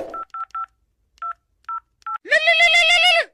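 A quick series of electronic phone keypad beeps, evenly spaced with short pauses, then a longer ringing tone begins.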